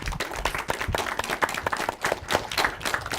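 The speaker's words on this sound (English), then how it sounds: "I always like to end with a big round of applause for the people who do all the work yourselves." Crowd applause at the end of an elementary school derby match, continuous mixed clapping from many people with an uneven rhythm, moderately loud throughout.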